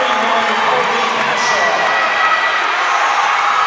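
Basketball fans in a gym cheer for a substitute entering a men's college game, a steady loud crowd roar with shouting that holds evenly throughout.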